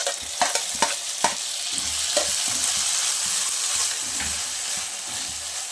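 Onions and chopped tomato fry in a pan for mushroom gravy, giving a steady sizzle with a few sharp stirring clicks and scrapes near the start. No one speaks.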